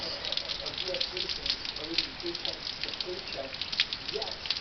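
Steady rain patters and hisses continuously, a dense wash of drops striking surfaces nearby, moderately loud and alone.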